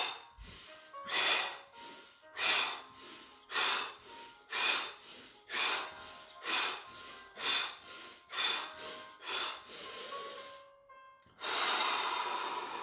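Fast, guided breaths in and out during a French-language relaxation exercise, about a dozen sharp rhythmic puffs about a second apart, close and fairly loud, then a longer rushing exhale.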